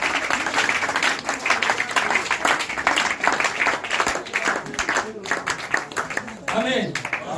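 A church congregation applauds and cheers the Lord during a French-language service, with dense rhythmic clapping and crowd voices filling the room, steady and loud before easing near the end.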